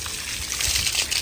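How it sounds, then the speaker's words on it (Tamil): Water is poured onto a freshly built concrete headroom to cure it, heard as a short, continuous splashing hiss of water hitting the surface. "தண்ணி நிறைய ஊத்தணும்"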